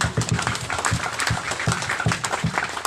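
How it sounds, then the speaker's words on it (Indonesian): A church gathering of the GIDI church in West Papua clapping in an uneven rhythm to applaud Jesus, a dense, close patter of many hands that carries steadily from start to finish, with no voices. "Kita beri tepuk tangan buat Yesus."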